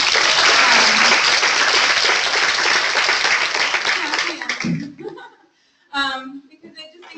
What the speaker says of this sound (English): So can we give a round of applause for that?